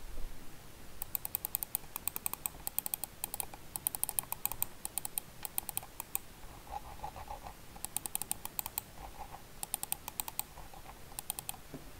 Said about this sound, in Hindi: माउस में क्लिक्स की साउंड आप सुन सकते हैं।